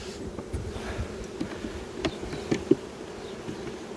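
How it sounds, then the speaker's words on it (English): Honeybees buzz in a steady, droning swarm as they are shaken from a hive into a new box, with a few sharp knocks and bumps of the equipment near the microphone. "just shake these bees into this new box"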